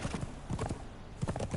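Horse hooves clip-clop in a steady trotting rhythm while riding a horse in the video game Conan Exiles, close and fairly loud throughout the short stretch.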